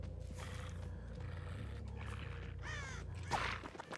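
Crows cawing in the horror game Dead by Daylight, several rough caws spaced over a constant low rumbling game ambience, with a sharper cry near the end.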